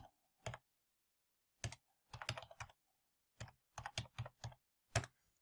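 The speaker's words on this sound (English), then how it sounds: "Just gotta keep punching those buttons on your keyboard and away you'll go with this." Typing on a computer keyboard in short bursts of crisp key clicks, separated by quiet pauses, close and clear with no voices.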